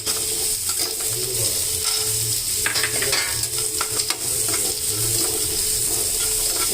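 Crumbled jowar rava idli fries in hot oil in a kadai, giving a loud, continuous sizzle with a brief burst of scraping stirs in the middle.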